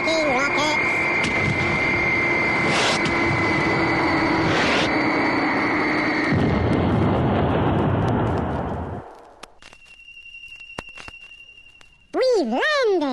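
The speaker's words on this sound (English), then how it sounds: "Fire braking rockets!" Braking rocket engines firing as a space landing sound effect, a loud sustained roaring blast with steady tones that cuts off and fades, followed by faint hum and a sudden warbling electronic burst.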